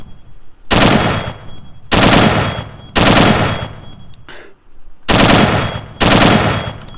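M4 rifle from an RH M16/M4 weapons pack in Arma 3, firing full auto in five loud sustained bursts of about a second each with short pauses between.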